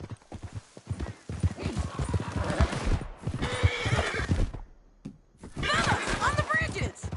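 Horses in the Red Dead Redemption 2 video game clatter in a rapid galloping clip-clop with repeated loud neighs and whinnies, mixed with shouting voices and a few thuds during a chaotic canyon ride.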